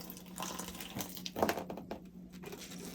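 Water gently poured over seeds in a seed tray, a soft trickling and dribbling with a brief splashier burst in the middle, fairly quiet and close.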